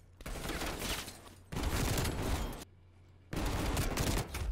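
Shotgun fire from the video game Black Ops Cold War comes in dense, loud bursts of rapid blasts, three long volleys split by a brief lull.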